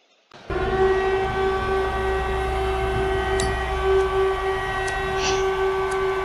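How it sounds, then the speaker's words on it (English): A siren at a Highland Hardcore Wrestling event cuts in abruptly and holds a loud, steady, horn-like tone with strong harmonics, sounding continuously over a faint crowd background. "There's the siren"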